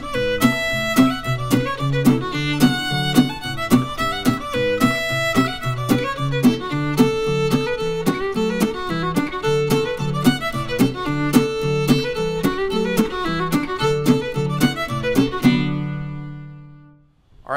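A lively fiddle performance of the old-time tune The Eighth of January, with fast, bright bowed notes and double stops driving a steady rhythm for most of the stretch before stopping and ringing out, close and clear.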